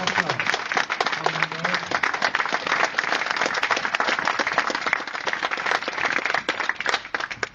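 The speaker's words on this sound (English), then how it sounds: "Give them a round of applause." An audience applauds the winning crew at a fire service training competition, with steady, dense clapping carrying through the whole stretch and a brief voice near the start.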